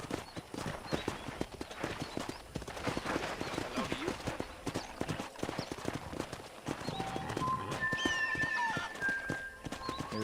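A horse galloping in Red Dead Redemption: rapid, steady hoofbeats running close throughout, with a whinny and game voices talking over the hooves.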